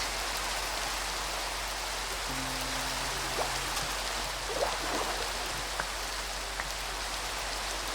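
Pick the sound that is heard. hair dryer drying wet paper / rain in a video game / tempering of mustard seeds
rain in a video game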